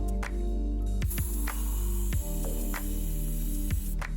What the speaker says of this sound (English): I'm going to dip and spray aqua and white glaze on 8 different bowls